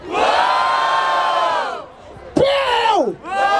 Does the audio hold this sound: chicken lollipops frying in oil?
no